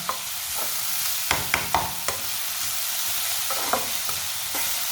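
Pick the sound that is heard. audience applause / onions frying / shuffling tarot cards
onions frying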